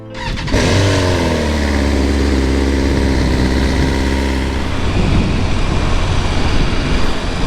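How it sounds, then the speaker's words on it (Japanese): A BMW S1000R motorcycle engine fires up with a sharp start, then settles into a loud, steady idle close by, its tone roughening slightly toward the end, with no talk over it. "エンジンスタート。"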